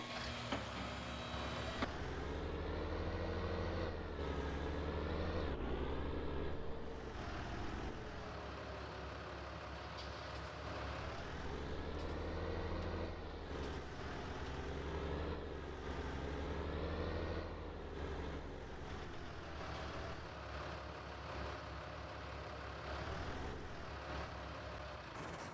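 Tractors in Farming Simulator 19 rumble as they are driven into a shed, a continuous engine drone rising and falling in pitch with throttle changes across the whole stretch, fairly close and with no talk.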